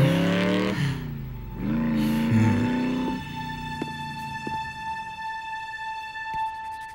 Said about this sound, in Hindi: कमाल की बाइक है।